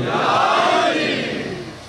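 A crowd at a religious majlis gathering roars a drawn-out unified shout in response, loud and full, swelling then fading over about two seconds.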